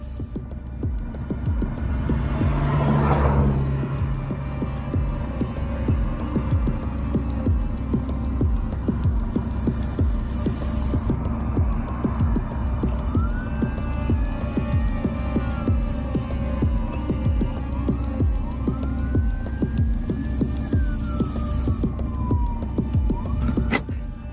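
Several police cars arrive running code 3, with warbling, sweeping sirens rising and falling over a steady throbbing low hum and rhythmic pulsing from idling vehicles close by, continuing throughout with no talking.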